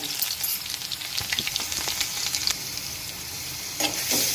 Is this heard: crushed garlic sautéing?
yes